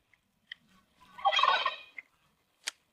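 A goose calls on a farm, a single loud harsh honking burst lasting about a second, framed by a few short clicks and squawks nearby; no talk.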